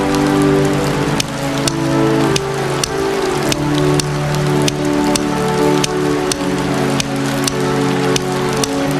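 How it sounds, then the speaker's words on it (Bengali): Steady rain pours in a Bangla children's cartoon, a dense even hiss with regular sharp drop taps repeating across the whole stretch, with no talk. "আরে মিনা রাজু, তোমরা বৃষ্টি তো, তাই এইখানে একটু দাঁড়াইছি।"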